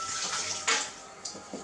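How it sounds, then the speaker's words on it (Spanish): Clean water running into the removable tank of a De'Longhi Magnifica S superautomatic espresso machine, a soft, steady pour with a few brief splashy bursts near the end. "sacamos el depósito de agua y lo llenamos con agua limpia"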